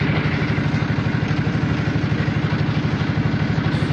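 A fishing trawler's engine runs along the Jamtala canal at high tide, a close, loud, steady low throb with rapid even pulsing that continues without a break and without voices.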